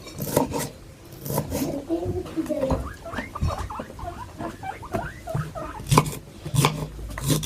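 A guinea pig squeaks in a rapid series of high, rising calls, close by, with rustling and handling noises around it.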